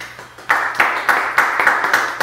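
A small group claps along at a birthday celebration as candles are blown out, a burst of rhythmic, close hand claps that starts abruptly and carries on in a steady beat.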